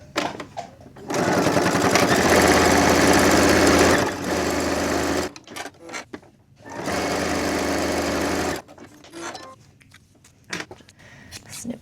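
A sewing machine stitches a 1/8 inch inseam along both sides of fabric pull tabs for a quilted keychain wallet, running in two loud, steady buzzing bursts of a few seconds each, with quieter handling noises and pauses between.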